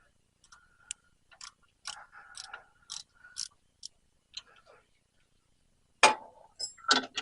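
Metal tool work on a forklift tilt cylinder cartridge valve: sparse, faint clicks and ticks come in short bursts, followed by a sharper cluster of louder metallic clinks near the end.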